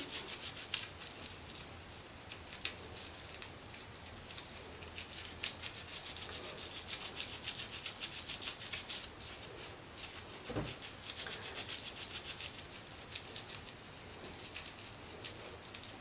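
An oil paintbrush is scrubbed on a bar of soap in fast, continuous close rubbing strokes, steady and raspy throughout with a single soft knock midway.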